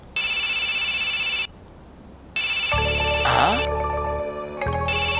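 A mobile phone rings with an electronic ringtone in repeated loud, steady tonal bursts separated by short gaps, with other sounds layered in partway through.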